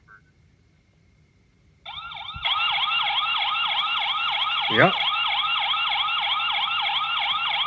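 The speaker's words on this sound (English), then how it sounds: "There's the siren, guys." The siren of an IEGeek S1 all-in-one solar security camera switches on after a quiet moment and wails in a loud, steady, rapidly repeating warble close by; a short remark is spoken.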